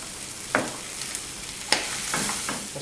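Onions cooking with seared meat in hot oil give a soft, steady sizzle, punctuated by a few sharp stirring scrapes in a short stretch with no voices.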